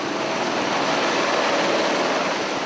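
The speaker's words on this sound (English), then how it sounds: "They manoeuvre the chopper closer" A helicopter flies close overhead during a search over a riverbed, its steady loud rotor and engine roar filling the whole stretch without any voices.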